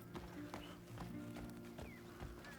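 Hooves of a horse pulling a carriage in a medieval-themed video game clip-clop at a steady walking rhythm, mid-distance and fairly quiet, with faint game ambience beneath.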